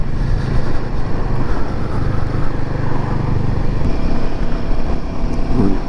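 A Royal Enfield Himalayan 450 motorcycle riding on the road, a loud steady engine drone with wind rush throughout, close and continuous with no talk.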